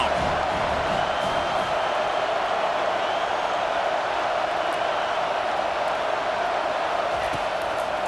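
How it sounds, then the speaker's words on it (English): Stadium crowd in the College Football 25 video game roaring steadily on a third-down defensive stand, a dense, continuous wash of cheering that holds at a constant loud level throughout. "Decibels rising as the crowd gets behind this defense on 3rd down."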